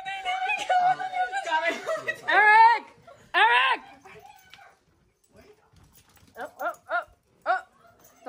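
A dog whines and yips in short, high, wavering bursts near the microphone, first among excited human voices and laughter, then as a few quick squeaky whimpers at the end.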